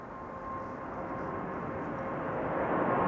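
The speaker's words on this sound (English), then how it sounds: "Emirates to Oslo. Prepare for a very steep climb rate." An Emirates jet airliner bound for Oslo climbs steeply after takeoff from Amsterdam Schiphol, its engines a broad, distant roar that swells slightly louder toward the end, with no voices.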